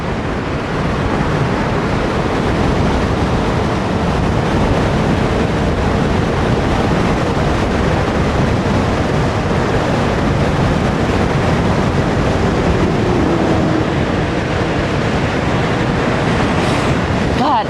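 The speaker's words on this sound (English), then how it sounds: "This wind." Heavy wind noise buffets the microphone while riding along in the open, a loud continuous roar and rumble lasting throughout.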